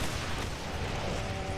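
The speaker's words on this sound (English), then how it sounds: "Explosions." Dense, continuous rumbling blasts and booming noise from the video game Brutal Doom, explosions and gunfire layered together, loud and sustained without a pause.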